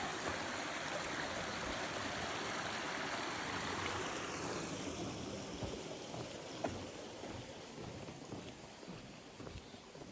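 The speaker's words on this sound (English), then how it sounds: "Water coming out of the beaver bog down there." Steady broadband rush of creek water flowing out of a beaver bog at a trail crossing, continuous and fairly close, with no voices.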